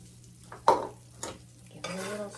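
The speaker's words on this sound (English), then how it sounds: "Give it a little stir" A spoon stirs buttered, salted popcorn in a pot on a stovetop, giving three short, soft scraping swishes with quiet gaps between them.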